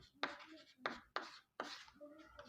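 Marker or chalk strokes on a classroom board during a chemistry lesson, four distinct scratchy bursts with short pauses between them, close and fairly quiet, with no talking over them.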